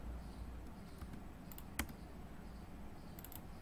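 A few sparse clicks of a computer keyboard being typed on, faint and spread out over a steady background hiss, with no voices.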